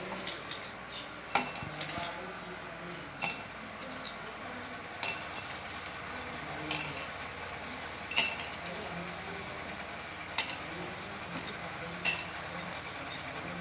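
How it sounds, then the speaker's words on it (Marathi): Ice cubes are dropped one by one into a dry drinking glass, giving several separate, faint clinks at irregular intervals over a quiet room background. "आता आपण पेल्यामध्ये बर्फाचे तुकडे टाकणार आहोत"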